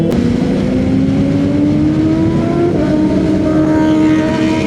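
An engine revs loudly and close by, its droning tone climbing steadily in pitch with a brief dip midway, and no speech is heard.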